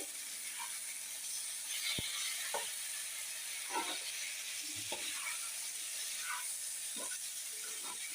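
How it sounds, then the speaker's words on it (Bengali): Greens stirred and sautéed in a pan on a tawa: a soft steady sizzle with scattered scrapes and clicks of a utensil, fairly quiet and close, no talk. "ভালো করে কষাতে হবে, এই যে সবুজ জাতীয়গুলো নাহলে গন্ধ করবে"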